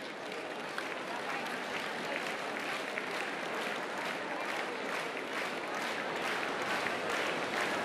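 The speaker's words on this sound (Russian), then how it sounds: "Пожалуйста, ваши аплодисменты всем тем, кто подарил нам сегодня такой замечательный праздник." Large concert audience applauding at the closing of an international pop music contest, a dense, even wash of clapping heard at a distance and held steady throughout.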